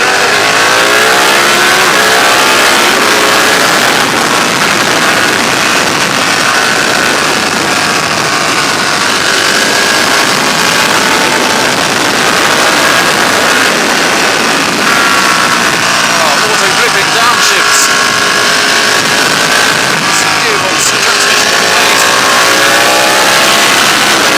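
A Ducati Panigale 1299 S motorcycle accelerates hard along a bumpy road, a loud, sustained engine roar rising through the revs with wind rush, close and continuous for over twenty seconds.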